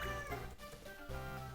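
A pet cat close by gives a drawn-out, whiny meow that bends in pitch, then a second shorter one, loud and clear with no talking over it.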